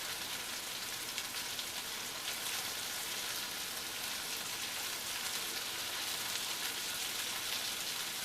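Beef and flour frying in butter for a beef stew, a dense, even sizzle that holds steady throughout with no pauses.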